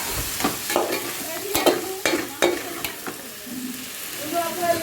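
Tomato and onion paste with green chillies stirred in a pan for coconut prawn curry, with repeated spoon scrapes and knocks against the pan over a soft sizzle, fairly close and irregular in rhythm.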